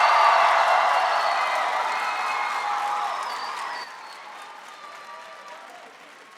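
Graduands at a spring convocation ceremony erupt in loud applause and cheering, a dense crowd roar that swells at the start and then gradually fades, dropping noticeably partway through.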